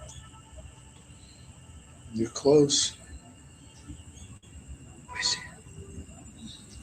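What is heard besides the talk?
crickets and frogs chirping at night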